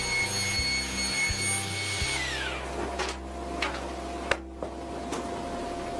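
Woodworking machine cutting a rebate into a long timber rail, a loud whining motor that winds down partway through, with sharp knocks and rubbing clatter of the wood as it settles.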